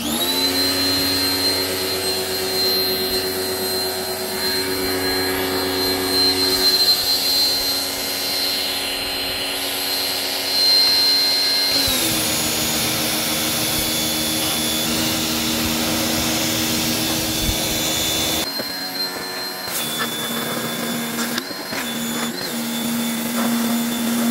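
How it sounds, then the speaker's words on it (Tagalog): A pressure washer runs continuously while cleaning a TCL split-type air conditioner at home, a steady loud motor whine with a drop in pitch partway through, then a harsher, shifting spray noise near the end. "Pressure washer natin."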